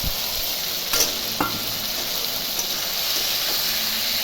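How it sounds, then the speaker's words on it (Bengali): Ginger, cumin and chili paste fries in a pan with a steady broadband sizzle, interrupted by a few brief stirring scrapes, close and moderately loud, with no voices. "একটু ভাজা একটু করে নেব।"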